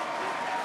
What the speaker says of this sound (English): Leon being serenaded by the crowd here at the Great Hall.